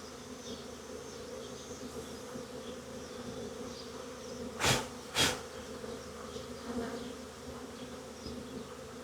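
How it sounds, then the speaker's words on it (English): A wild honey bee swarm in a barn gives a faint, steady low buzz throughout, with two brief louder knocks or bumps near the middle. "There's a bunch of bees in here."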